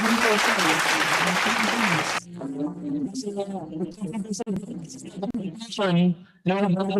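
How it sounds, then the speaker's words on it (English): An audience at a special welcome program in the Philippines gives a burst of dense applause for about two seconds, then it cuts off and someone speaks. "let's give her a big, another big round of applause"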